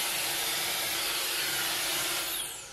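A foldable hair dryer with a head that bends to 90 degrees blows strong air in a loud, steady, broadband whoosh that holds evenly for nearly three seconds before tapering off at the end.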